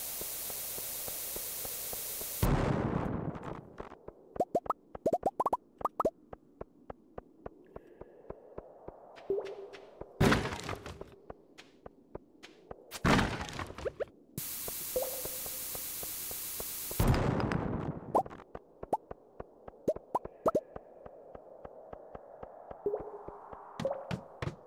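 Bombs exploding in the mines of Stardew Valley, a video game: about four loud, sustained bursts of noise spaced across the clip, separated by rapid small clicks and quieter game sounds.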